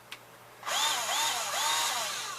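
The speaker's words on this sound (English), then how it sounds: "nickel cadmium or NiCad battery operated drill driver with a adjustable torque thing here up to 5" A NiCad battery-operated drill driver with adjustable torque whirs up after a brief click, its motor humming loudly and steadily with slight rising-and-falling pulses in pitch.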